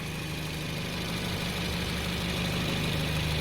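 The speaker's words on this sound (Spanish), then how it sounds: "con el motor en ralentí" A car engine idles steadily during a charging-system check, a low continuous hum with an even rumble that holds at a constant level with no talk.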